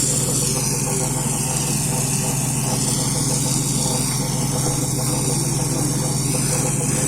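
A Massey Ferguson 398 4WD tractor engine runs steadily with its PTO turning at a thousand revolutions while making alfalfa silage, a constant loud droning hum with no pauses.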